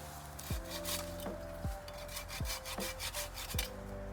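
A Silky hand saw cuts through brush outdoors, with several rough rasping strokes and a few sharp snaps of branches, loud and close, with no talking.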